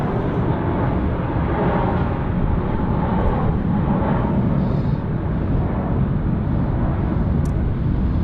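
A jumbo jet pushing back at Sydney Airport, a steady loud broadband roar of engines rumbling continuously without pause, dense low noise holding level throughout.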